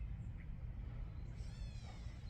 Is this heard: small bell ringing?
no